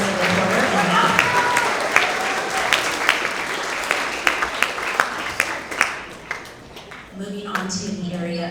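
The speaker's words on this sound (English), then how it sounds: "Let's have another round of applause for all of our Tigers of the Quarter and math." An audience at a 6th to 8th grade school award assembly claps in a sustained round of applause with voices mixed in, thinning out toward the end before a voice carries on.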